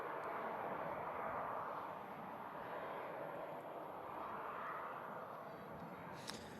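Helvetic Embraer E195 jet moving at Manchester Airport, a steady broad engine rumble and roar heard at a distance, constant throughout with no talk.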